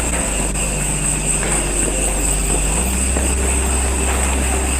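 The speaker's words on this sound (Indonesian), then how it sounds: "Nah ini suara airnya" Bogowonto river water rushing beneath a railway bridge in Ngandul, Purworejo, at night, a steady broadband roar with low wind rumble, continuous and unbroken throughout.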